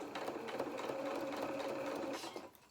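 Sewing machine stitching fabric for a doll's hedgehog head: a steady, fast mechanical whirring and clatter running continuously close by, then slowing and stopping near the end.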